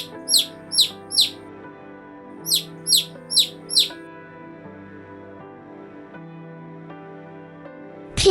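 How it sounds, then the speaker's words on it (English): A chick chirps in two quick groups of high, sharp peeps, three then four, over a soft background melody, followed by a short burst at the very end. "Chick."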